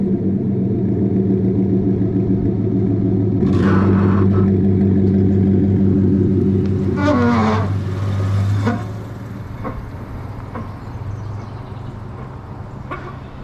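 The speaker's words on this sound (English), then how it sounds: "I don't know if you guys remember that exhaust, but listen to how good it sounds." A Chevrolet Silverado Z71 pickup with an aftermarket exhaust rumbles deeply and steadily up close, swelling louder before settling to a lower idle, with brief chirps from birds nearby.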